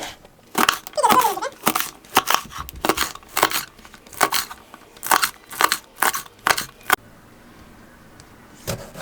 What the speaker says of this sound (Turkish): Yeşil biberlerimizi de küçük küçük doğrayalım.